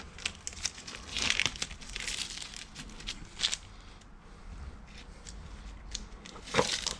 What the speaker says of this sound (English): pull off that tape you put on there